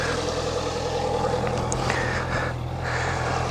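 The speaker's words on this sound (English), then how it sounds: "Push the button, start straight away." A Honda CB650F motorcycle, 2014–2015 model, starts with a push of the button and settles into a steady, fairly quiet exhaust note, close by and continuous, with no talking over it.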